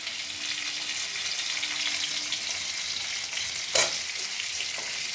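Potatoes frying with salt in a pan, stirred steadily: a continuous close sizzle with soft scraping, one sharper clatter near the end, and no talking.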